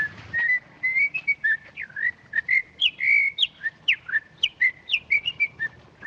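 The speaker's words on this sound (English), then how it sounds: "Nice day of the week to be whistling a jig on the streets." A person whistles a lively jig on a street, a quick run of bright, clear notes with short gaps between phrases, steady and fairly close throughout.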